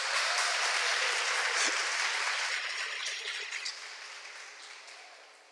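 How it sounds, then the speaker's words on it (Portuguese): A church congregation breaks into loud, sustained applause that holds steady and then slowly fades over the last couple of seconds. "Vamos dar um aplauso ao Senhor Jesus"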